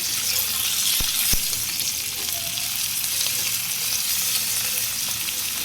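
Potatoes frying in a pan, about to be joined by spinach: a loud, dense, steady sizzle close up, with a couple of sharp clicks near the start and no talking.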